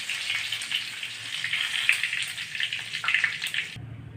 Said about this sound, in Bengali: তেল গরম হয়ে গেছে, সম্বরা জিরা ফোড়ন সব হয়ে গেছে।